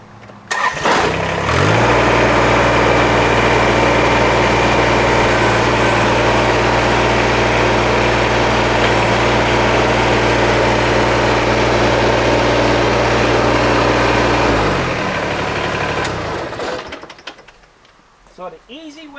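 A Kubota BX25D tractor backhoe engine cranks and catches, then idles loud and steady for about thirteen seconds before being shut off, leaving a quiet tail.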